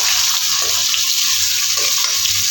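Sliced onions fry in a pan with a steady, close, loud sizzle and a few soft stirring scrapes.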